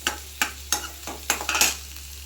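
Chopped onions roasting and being stirred in a pan until they brown, heard as about seven sharp, evenly spaced scraping strokes over a low, steady background hum.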